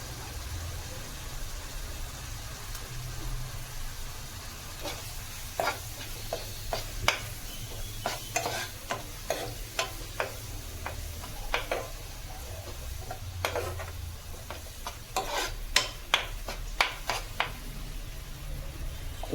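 Tomatoes go into a pan of fried onion for a Maharashtrian dried bombil dish, sizzling softly while a spoon stirs and scrapes in irregular clicks and taps, close and moderately loud, with no talking.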